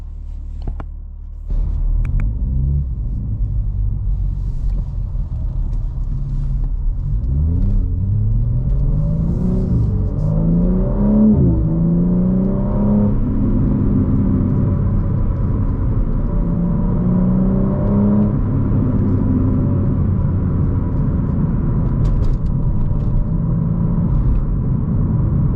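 A BMW M3 fitted with an IRL midpipe and AA catted downpipes rumbles and revs while driving, the exhaust note rising and falling through several accelerations, loud and close, steady drone throughout.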